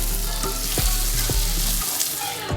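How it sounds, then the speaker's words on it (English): Sausages browning in a pan while seasoned with Cajun spice for jambalaya, a steady loud sizzle broken by several sharp crackles and stirring scrapes, with no talk. "I'm just getting my sausages more browned and seasoned up."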